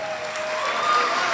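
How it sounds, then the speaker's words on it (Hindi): An audience at a poetry gathering (mushaira) at a government college in Jhang claps in a continuous, even wash of applause that holds steady throughout. "एक दफा तालियां बजा के सर को दें"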